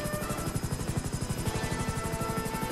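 Helicopter in the video game GTA V Online, a steady rapid rotor chop with whining engine hum, loud and continuous, no voices.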